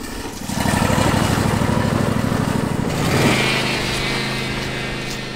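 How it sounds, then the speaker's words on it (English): A riding lawn mower engine drones loudly and steadily nearby, its pitch shifting slightly as it passes and settles into a constant hum. "we gotta pass my son on the riding lawnmower."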